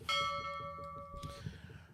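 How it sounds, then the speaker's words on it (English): A single bell struck once during a live podcast show rings out clear and close, then decays smoothly over about a second and a half with no talk. "I just rang the bell on the live for y'all who didn't know what I just did there"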